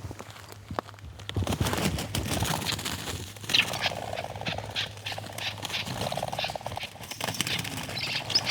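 Red-legged partridges taking flight together in an aviary, a burst of close wing flapping and rustling that continues in waves over several seconds, with scattered outdoor noise.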